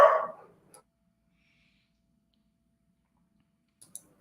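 One short dog bark sounds near the start and then fades into near silence. A couple of faint clicks follow a few seconds later.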